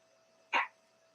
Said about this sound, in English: I've got a really, really old rescue dog that's doing some coughing about 5 feet away from me